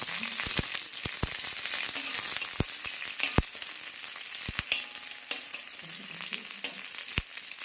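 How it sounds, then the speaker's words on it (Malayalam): A few small shallots frying in hot oil for a tempering, a dense steady sizzle with frequent sharp pops and crackles, close and continuous. "ചെറിയ ഉള്ളി നന്നായിട്ട് മൂക്കണം"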